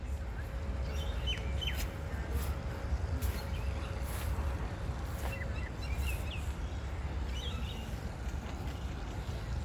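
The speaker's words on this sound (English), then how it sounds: "heaps of common or Indian miners, which you can hear everywhere" Scattered sharp chirps and squawky calls of common mynas ring out intermittently in Melbourne over a steady low rumble of engine or traffic noise.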